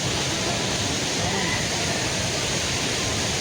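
A waterfall at Bhorgiri roars in a dense, unbroken rush of water, loud and constant for the whole stretch.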